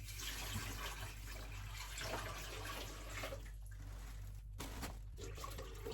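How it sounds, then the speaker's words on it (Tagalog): Water runs steadily close by, a continuous splashing gush into a pot for steaming, with brief dips where the flow pauses before resuming. "Maglagay na tayo ng tubig."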